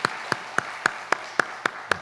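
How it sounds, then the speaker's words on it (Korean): Sparse, evenly spaced claps ring out in a church during a Sunday service, about eight sharp hand claps in a steady rhythm over two seconds, clear and fairly near with no other sound. "우리 박수로 격려하겠습니다"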